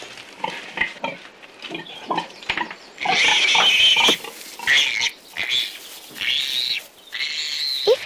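Close, loud pig noises: a string of short grunts and snorts gives way to longer, higher squealing cries with brief gaps between them, and no talking.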